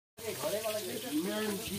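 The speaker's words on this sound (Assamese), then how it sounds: "এই চাওক মাছ ভাজি আছে চাওক মাছ ভাজি আছে" Fish fries inside a bamboo tube over an open fire, producing a steady close hiss and crackle that starts abruptly and continues without a break.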